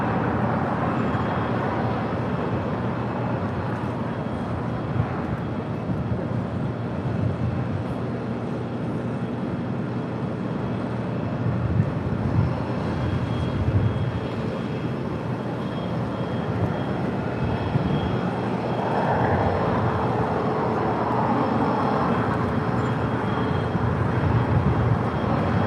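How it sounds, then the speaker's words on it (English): A Cathay Pacific Boeing 777-300ER bound for Hong Kong departs at an airport, a steady broadband jet roar that holds at even loudness throughout without voices. "Next departure is the 777-300ER heading to Hong Kong with Cathay Pacific."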